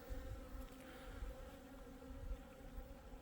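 Asian honeybees hum at an opened hive in a low, continuous drone. The buzzing is quiet, with soft outdoor background and no talk.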